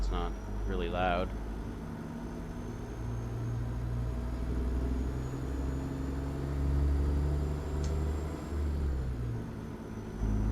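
A truck engine in a truck driving video game drones steadily at low pitch, shifting gears, with a brief voice near the start.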